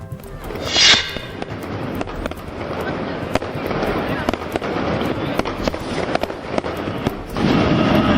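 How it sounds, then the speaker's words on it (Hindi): Fireworks over the Golden Temple in Amritsar during Prakash Parv: a dense, continuous crackle of bursts and pops with a few louder booms, heard from a distance with crowd noise and voices in the background. "स्वर्ण मंदिर में प्रकाश पर्व की रौनक, जमकर हुई आतिशबाजी"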